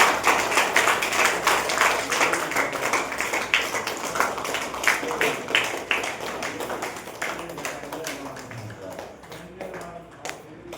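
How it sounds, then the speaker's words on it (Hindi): Hands clapping from a group of people at a talk on therapy, a steady patter of claps running through the whole stretch and thinning slightly toward the end. "तो ताली बजा लेंगे सभी लोग"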